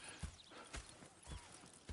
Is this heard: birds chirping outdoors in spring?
no